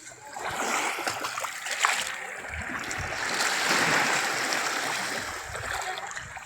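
Ducks bathing in the sea splash in the water, a continuous close, loud wash of splattering and churning with occasional sharper splashes.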